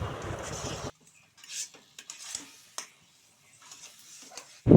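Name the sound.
palm fruit pulp being poured into another bowl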